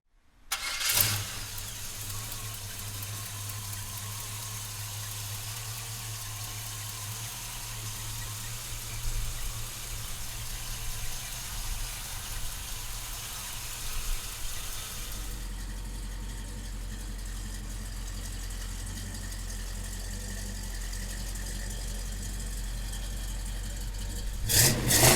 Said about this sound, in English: we're gonna fire this big block up